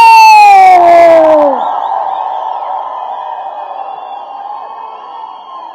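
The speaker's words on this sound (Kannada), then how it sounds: "ದಯವಿಟ್ಟು ಜೋರಾದ ಚಪ್ಪಾಳೆ ಬರಬೇಕು ಡಾಲಿ ಸರ್ ಪರವಾಗಿ ನಮ್ಮ ಡಿವಾಸ್ ಅವರಿಗೆ" Crowd at a live event cheers and whoops loudly for Darshan, a high shrill shout sliding down at the start before settling into a steady, softer roar of voices.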